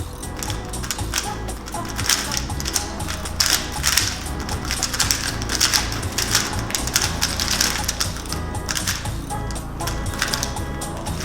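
A Rubik's cube is turned rapidly during a speed solve, giving dense, continuous plastic clicking and rattling for about eleven seconds, close and busy with no talk.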